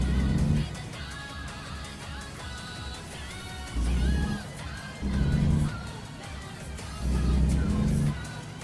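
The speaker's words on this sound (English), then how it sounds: "I want a little bit of engine." A truck engine in a trucking simulator game swells in several short, loud bursts of low rumble, each lasting about half a second to a second, over a steady background with tonal sounds.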